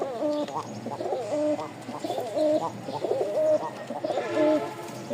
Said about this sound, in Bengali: আজকে বিস্কিট কালারের কবুতরের ছড়াছড়ি আছে